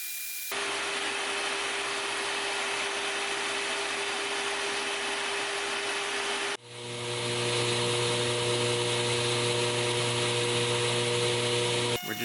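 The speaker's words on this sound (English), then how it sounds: "We're just shaving any excess off to make the actual final shaping of the handle easier." Excess material being shaved off knife handle scales before final shaping on a belt grinder, a loud steady whirring power-tool grind that runs on, briefly dips, then restarts with a slightly different droning pitch.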